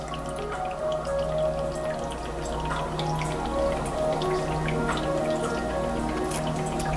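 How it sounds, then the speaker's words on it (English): Condensed water drips out the side of an HHO burner, making a steady stream of small, close drops over a constant low hum, with no talking. "the condensation builds up in there and it drips out the side"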